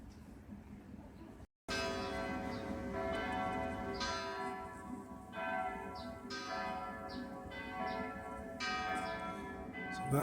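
Large church tower bells ring repeatedly in a continuous peal, resonant tones overlapping, heard from a moderate distance with faint background noise.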